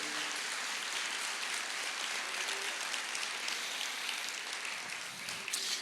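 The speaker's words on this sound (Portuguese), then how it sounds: "Você pode aplaudir o Senhor" Church congregation applauding the Lord during a sermon, a steady wash of distant, hall-filling clapping that holds at an even level throughout, with no voices standing out.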